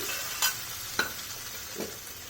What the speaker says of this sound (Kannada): ಇವಾಗ ಈ ಮಸ್ತಾಗಿರೋ ಒಗ್ಗರಣೆನ ನಾನು ಚಟ್ನಿಗೆ ಸೇರಿಸ್ಕೊತಿದ್ದೀನಿ